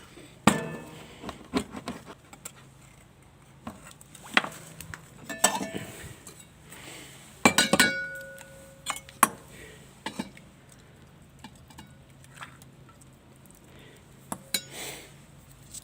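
A tin of fried bream in tomato sauce is opened with sharp metallic clicks, taps and clinks in scattered bursts, close by with quiet pauses between and no talk.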